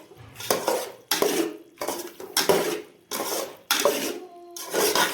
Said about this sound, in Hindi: इसे थोड़ा सा हिलाएंगे। ठीक है, मिक्स करेंगे अच्छे तरीके से।